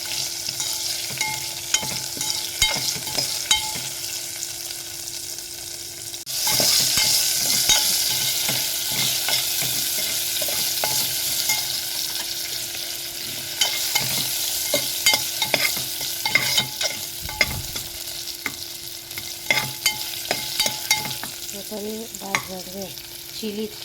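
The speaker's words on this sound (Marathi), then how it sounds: "मातशें भाजून घेता." Food for dhokla roasts and is stirred in a pan, producing a steady close sizzle with frequent light scrapes and taps of the spoon against the metal throughout, growing slightly louder partway through.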